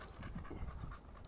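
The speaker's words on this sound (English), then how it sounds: "He's doing a lot of huffing and puffing." A large bully breed dog huffs and pants hard during an outdoor walk, fast repeated breaths close to the microphone, steady and fairly loud with no speech.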